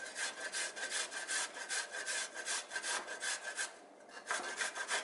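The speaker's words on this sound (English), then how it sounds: "now it's time to grate in our fresh ginger" Fresh ginger root is grated straight into a pan while making rhubarb chutney, a close, rhythmic rasping scrape repeated in quick strokes, with a brief pause near the end before the grating resumes.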